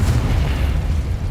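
A Confringo spell detonates in Hogwarts Legacy, a deep, heavy booming blast with a rumbling low end that fills the short moment.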